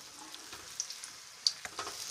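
Rava malpua batter fries gently in a pan of oil, a faint, low crackling sizzle with scattered small pops and ticks.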